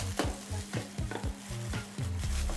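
Churros dough frying in heated oil in a home kitchen, a soft bubbling sizzle broken by a series of rhythmic stirring or scraping knocks, moderately quiet and close with no voices.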